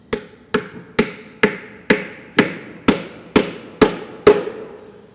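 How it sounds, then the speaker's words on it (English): A hammer tapping a log lock into a log slot in a door header log, ten evenly spaced sharp strikes about half a second apart, each with a short ringing decay, close and clear with no talking. "going to drive the log lock in there, where the flat edges are going to go into the log slot that's there"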